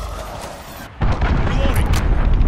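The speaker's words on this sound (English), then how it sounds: "Enemy missile, take cover." After a quiet second, an incoming enemy missile strikes in Call of Duty: Modern Warfare with a sudden loud boom, followed by a rumbling roar of debris and continued battle noise.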